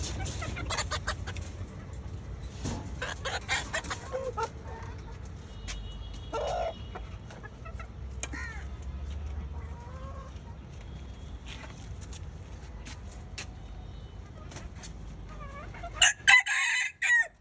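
Chickens clucking near and far at a rooftop poultry farm with a rooster crowing, scattered bird calls and rustling, ending with louder clattering noise.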